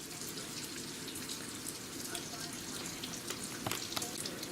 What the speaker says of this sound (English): while we're waiting for the bacon to render down